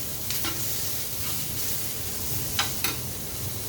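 Chopped onion frying in a pan for a Maharashtrian masala paste, with a constant soft sizzle broken by a few brief scraping stirs near the start and again toward the end.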